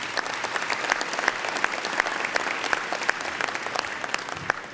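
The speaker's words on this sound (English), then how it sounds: "Let's give him a round of applause." An audience at a U.S. Senate candidates forum applauds Colonel Manis, a steady wash of many hands clapping at moderate loudness, sustained for the whole stretch with no talk over it.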